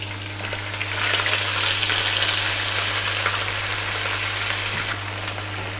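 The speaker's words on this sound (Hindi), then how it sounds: "अब तेल गरम हो गया, अब हम इसमें चिकन डालने लगे।" Bone-in chicken leg pieces fry in hot oil in a kadhai, giving a steady, close hiss and sizzle that swells after the first second and continues evenly, with a low hum underneath and no talking.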